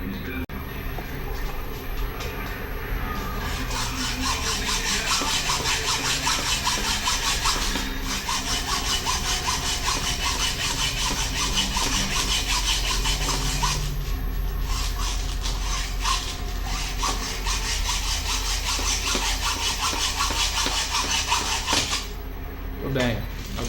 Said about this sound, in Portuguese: eu vou cortar o pedacinho desse parafuso e vou refazer o serviço